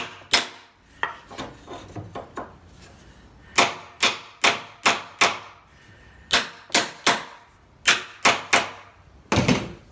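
A hammer taps a metal butt gauge against a wooden door edge to mark hinge positions: a run of sharp, close, evenly spaced knocks, mostly in quick pairs and triplets, with a few looser taps at the start.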